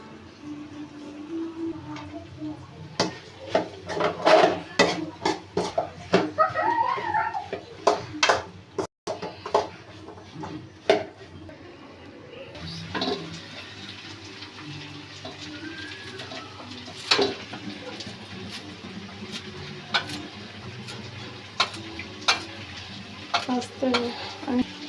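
Chana cooking in a pan, with clattering spoon strokes and scraping stirs over a low sizzle, busier early and settling into a quieter steady fry later, with faint birdsong in the background.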